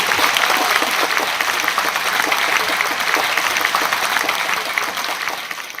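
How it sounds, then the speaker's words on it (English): An audience applauds steadily, a dense patter of many hands clapping at close range, sustained at even loudness throughout. "Let's give him another round of applause."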